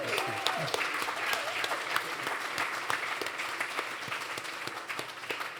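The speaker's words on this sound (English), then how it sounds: "I hope that you'll give him a warm round of applause" An audience gives a warm, sustained round of applause for Larry Mantle at a Silicon Beach event in Los Angeles, many hands clapping steadily throughout with faint crowd murmur beneath.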